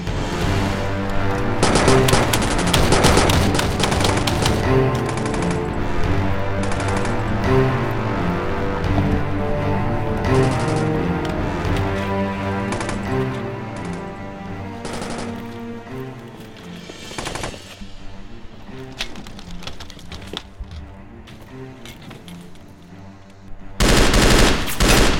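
Machine gun fire during a war film battle, sustained loud bursts of rapid automatic shots rolling together, easing off near the end before a sharp renewed burst.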